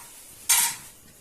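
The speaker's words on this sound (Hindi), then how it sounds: "ये मैं सैंडविचेस रख रही हूँ इसमें।" Sandwiches are laid into a butter-coated pan over a low flame, giving one sudden bright sizzle that swells and then fades over about half a second, with no voices.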